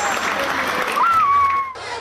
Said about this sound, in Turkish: Şöyle kuvvetli bir alkış